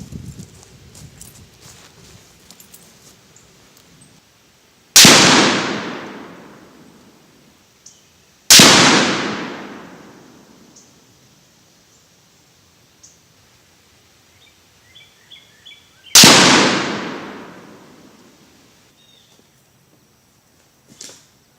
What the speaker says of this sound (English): We're going to keep on shooting.